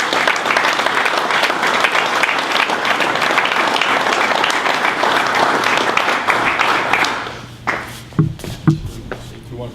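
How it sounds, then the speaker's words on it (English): An audience gives loud, sustained applause at a recognition event, dense clapping that fades out after about seven seconds, leaving a few scattered claps and brief talk. "let's give them a big round of applause."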